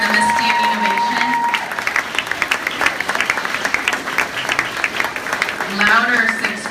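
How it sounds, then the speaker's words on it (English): Audience at a sixth-grade graduation ceremony claps steadily in a dense, loud wash of applause, with scattered voices and a few cheers mixed in. "Would you please applaud your parents and stand up and give them a standing ovation?"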